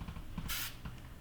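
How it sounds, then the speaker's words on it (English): A short burst of aerosol coating sprayed onto a Pontiac Sunfire's rust-repaired frame, a loud steady hiss lasting about a quarter second, close to the microphone amid faint workshop noise. "Would be nice if there was kind of a fan to the spray pattern."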